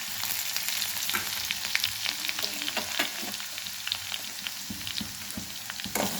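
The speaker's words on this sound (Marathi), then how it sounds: "थोडंसं तळून घ्यायची आपल्याला." Garlic and green chili paste frying in a hot pan, a dense continuous sizzle with crackling pops and occasional stirring scrapes, close and steady throughout with no talking.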